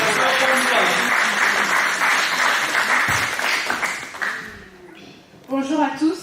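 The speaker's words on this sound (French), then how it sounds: "On applaudit pour la sœur Françoise." Dense, loud crowd applause greets Sister Françoise before her poem at a CECF Sunday-school day gathering, clapping steadily for about four seconds before thinning out, then a voice speaks briefly at the end.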